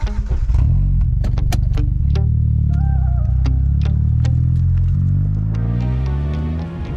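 Hyundai Avante N Line cup race car with a manual gearbox, its engine droning loud and close, with a rising rev held steady and then a gradual pitch shift as it winds down.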